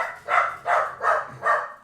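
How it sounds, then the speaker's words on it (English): A dog barks four times in a steady rhythm, each bark loud and close, with a short gap between them and no talking. "We own dogs."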